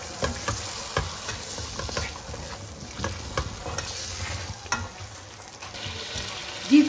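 Small pieces of meat fry in a pan for nihari with a steady sizzle, broken by scattered scrapes and clinks from stirring.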